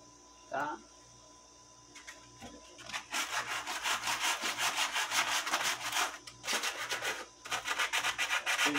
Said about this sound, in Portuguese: E aí vocês vão lixando até ela ficar bem lixadinha